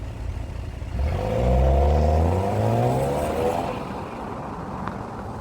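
BMW X4 with a 2-liter twin-scroll turbocharged engine accelerating hard, its note rising steadily in pitch through the gears, loud and close, then settling back into road and wind noise.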